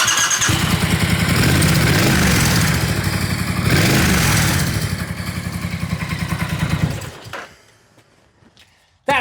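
A twin-turbo bobber motorcycle engine runs loud and steady with a throbbing, uneven rumble, revving briefly before cutting off abruptly into near silence.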